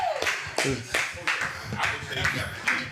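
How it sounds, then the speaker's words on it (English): A small group claps in a few sharp bursts, several distinct slaps spaced across a few seconds, close and fairly quiet. "Everybody get a round of applause for that"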